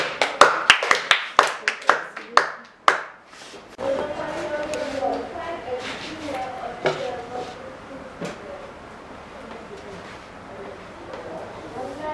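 Students in a chemistry class clap for a classmate: a quick burst of sharp, close claps for about three seconds, then it fades into murmuring room noise and scattered knocks.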